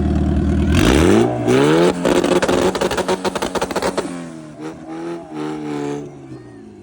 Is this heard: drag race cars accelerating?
yes